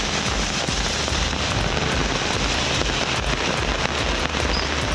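Heavy rain pours steadily in a sudden storm in the Sirkazhi area of Tamil Nadu, a dense continuous hiss of drops on surfaces with low rumbling underneath and no voices.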